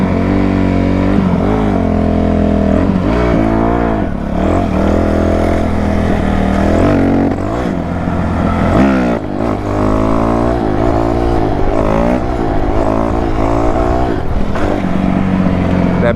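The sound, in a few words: dirt bikes riding and revving at night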